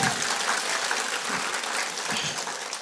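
A church congregation clapping their hands in praise of God, a steady, dense burst of applause from many people that fills the room without a break.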